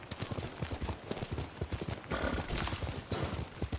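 Horse hooves galloping in Ghost of Tsushima, a rapid, steady clip-clop of hoofbeats close by that runs throughout, with a brief neigh and no speech.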